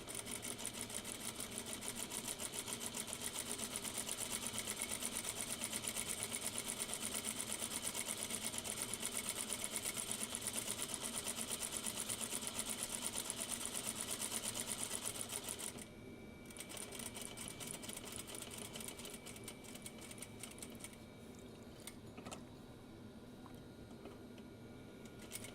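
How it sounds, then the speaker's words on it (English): A sewing machine runs a steady, fast-whirring stitch, then shifts to a lighter, slightly quieter run partway through as it back-stitches in a home sewing room, with no voices. "back stitching"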